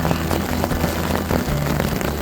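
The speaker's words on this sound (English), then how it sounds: "So this is a combination of rain and hail." A mix of rain and hail, close to hail-snow, falls steadily onto a tarp at a camp in the Wind River area, making a dense, constant patter with scattered sharper taps.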